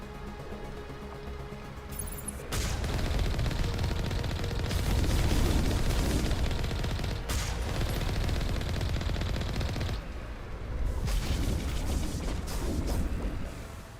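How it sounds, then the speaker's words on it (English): Sustained heavy weapons fire from a Colossus in the video game Mass Effect, on Insanity difficulty, pounding steadily in long loud bursts with brief lulls, dense and booming throughout. "Someone's firing at me. Well, that's a Colossus."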